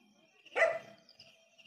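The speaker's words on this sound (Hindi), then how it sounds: "और कुत्ता देखिए ये भौंक रहा है।" A village dog gives a single short bark close by at night, a lone burst standing out over a faint, quiet background hum.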